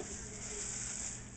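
Tomato thrown onto a hot frying pan where Cajun paprika shrimp are frying gives a steady, faint, even sizzle that holds without a break.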